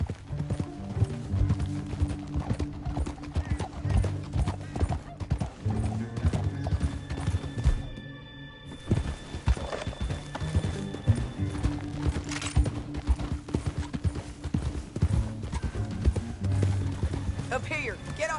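Horses ridden at pace in the Western video game Red Dead Redemption 2, steady rhythmic clip-clop of hooves with an occasional whinny, under a music score and spoken dialogue, pausing briefly midway.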